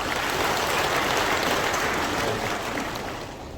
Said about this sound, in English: Let's all give a big round of applause.